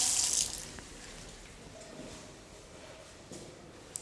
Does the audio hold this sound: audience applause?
no